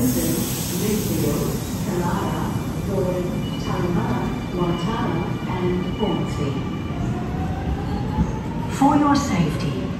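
A train stands at a platform at Sydney Central station, with a steady rumbling hum and faint wheel squeal under nearby voices and platform announcements, and a brighter screech rising near the end.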